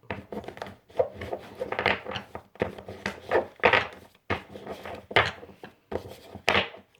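Tarot cards shuffled by hand before a reading, a series of soft riffling and tapping bursts in an uneven rhythm, close and fairly quiet, with no talking.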